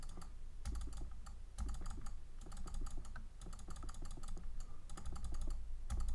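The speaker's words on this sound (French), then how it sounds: "Désolé pour le clic de nouveau." Rapid computer mouse and keyboard clicking during a Minecraft 1.9.2 gameplay recording, a steady run of close, crisp clicks and taps with occasional heavier thumps and no talking.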